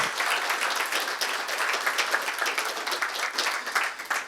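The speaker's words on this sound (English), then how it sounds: "Please, a warm applause." Audience applause after a talk at the OSMC 2023 monitoring conference, a steady crowd of many hands clapping at moderate distance for about four seconds, with no voices over it.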